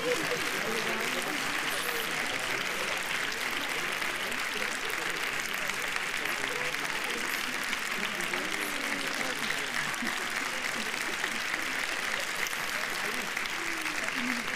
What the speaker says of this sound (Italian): Applaudite loro